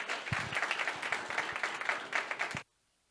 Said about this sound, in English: With an applause, a slight applause